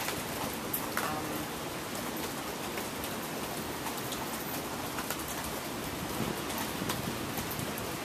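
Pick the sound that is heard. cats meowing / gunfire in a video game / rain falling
rain falling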